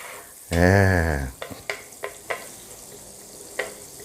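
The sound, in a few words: stir-frying garlic fried rice in a pan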